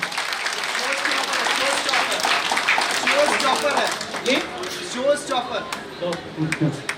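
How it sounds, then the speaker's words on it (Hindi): An audience applauds in honour of the Indian Air Force at an Air Force Day event, with broad sustained clapping that thins into scattered claps while voices speak over it. "तो एक बार वायुसेना के लिए जोरदार तालियों से स्वागत करिए"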